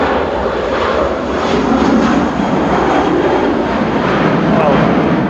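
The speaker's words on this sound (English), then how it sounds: "Heading off with flight 947 to Frankfurt is Lufthansa's DAISU, an 15-year-old A321" A 15-year-old Lufthansa Airbus A321 jet takes off into a strong headwind at Manchester Airport, its engines a loud, steady roar throughout with a voice talking over it.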